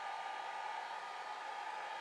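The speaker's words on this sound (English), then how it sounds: "hold your dryer in place like this, mostly towards the outside of the petal" Steady whir of a hair dryer blowing on an alcohol ink flower painting, constant and fairly quiet, with a narrow tonal hum inside the airflow and no talking.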